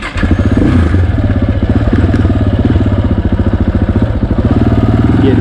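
A 2020 Yamaha XT250 motorcycle is being ridden. Its single-cylinder engine chugs loudly and close with a fast, even rhythm, and some mechanical clatter rides on top.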